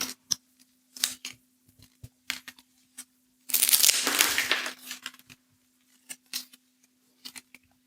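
Scissors snip through rushes gathered for a St. Brigid's Cross, giving a string of short, sharp cuts, with a longer rustling crunch of the stems in the middle; the snips are close and clear with quiet gaps between them.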